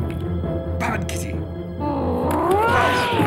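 A cat gives a drawn-out, wavering growl that rises into a yowl, heard alongside a voice speaking.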